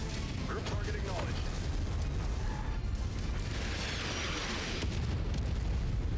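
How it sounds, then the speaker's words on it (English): Artillery shells burst in a Mechwarrior 5: Mercenaries battle, rendered as a dense, continuous rumble of booming explosions with rushing debris, faint and steady rather than distinct single blasts, while a voice speaks. "Good bit of artillery."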